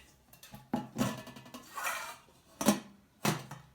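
Metallic clanks and rattles from a two-piece Cem non-stick frying pan set being handled, several sharp knocks and softer scrapes at irregular intervals, close and fairly quiet with no talking.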